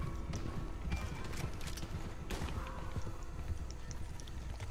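Horse hooves clip-clopping at a gallop in an action video game, a steady rhythmic beat close by, mixed with game ambience and scattered noise and a brief whinny.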